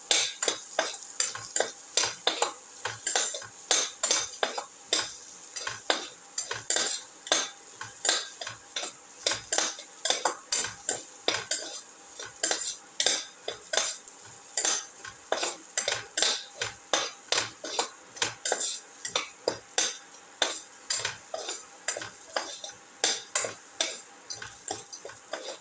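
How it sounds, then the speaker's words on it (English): A utensil scrapes and taps steadily against a pan while ginger, potato and tomato casserole sautés, a quick repeated clatter over a soft sizzle, close and fairly quiet. "Keep on sauteing."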